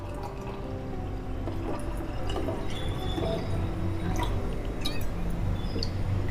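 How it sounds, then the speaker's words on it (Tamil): Water is poured into a thick, boiling pot of rasam: a continuous liquid pour with scattered drips over a low, steady hum, with no voices. "இப்போ இந்த டயத்தில் நமக்கு வந்து இதுக்கு இந்த ஜலத்தை விட்டுக்கலாம்."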